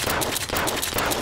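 Gunfire from the Zed Zone video game: a short burst of rapid, loud shots in close succession, heavy recoil implied, with no talking.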